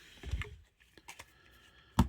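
Gold playing cards being shuffled, giving sharp clicking riffles in short bursts with a final louder snap, close and alone without talk.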